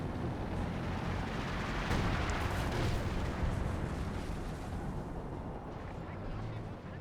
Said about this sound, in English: An artillery barrage from the officer is being brought in here.